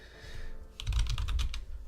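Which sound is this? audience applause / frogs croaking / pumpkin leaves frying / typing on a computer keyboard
typing on a computer keyboard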